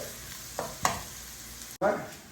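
Beef frying in a pan sizzles softly while a utensil stirs it, with a few brief scrapes and clacks and a louder stir near the end.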